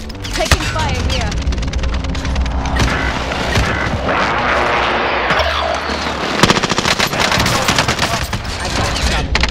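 Machine gun fire in the video game Call of Duty: Modern Warfare, with loud close bursts of automatic gunfire and rapid rattling volleys mixed with vehicle engine noise and other battle sounds, with voices heard amid the combat.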